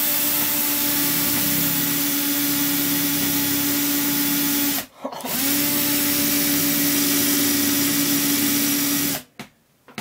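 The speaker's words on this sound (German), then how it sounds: "Loch eingebohrt" Power drill boring a hole into hard wood, a steady loud whine running with a brief pause midway, then resuming before cutting off near the end.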